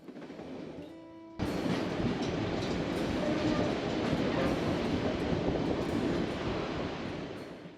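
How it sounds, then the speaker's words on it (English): A train rumbles loudly along the rails, a constant roaring clatter that starts abruptly and holds steady, with rhythmic clicking from the wheels. "What an exciting train ride we're on today"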